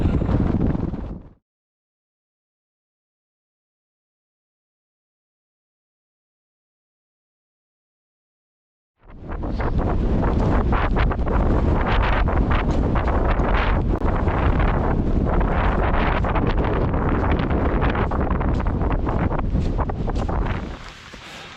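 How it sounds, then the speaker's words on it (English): Strong wind buffets the microphone on a mountain summit with a loud, rough roar after a long silence, gusting steadily for several seconds. "it's so windy, I can barely hear myself speak"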